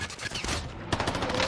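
Rapid bursts of gunfire in the Warzone Pacific shooter game, dense and continuous, with overlapping shots forming a loud, sustained fusillade throughout.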